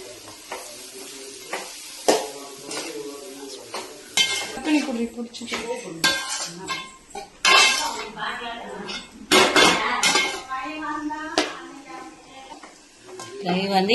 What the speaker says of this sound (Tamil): எண்ணெய் ஊற்றி அதில் உருளைக்கிழங்கு போட்டு வணக்கி வச்சுப்பா